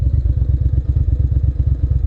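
A 2001 Ducati Monster 600 with a carbureted engine runs close by. It makes a loud, low, rapid thumping pulse that stays fairly steady throughout, with no talk.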